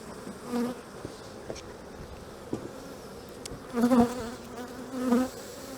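Honey bees buzz around an open hive during a spring inspection: a close, droning hum that swells loudly in a few passing bursts over a softer steady background.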